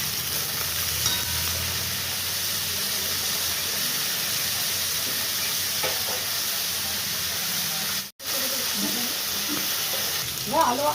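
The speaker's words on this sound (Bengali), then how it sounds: "হালকা করে আমি আলুগুলো ভেজে নেব।" Potatoes fry lightly in a pan with a steady, close sizzling hiss that runs throughout, broken by one brief dropout and a few soft clinks near the end.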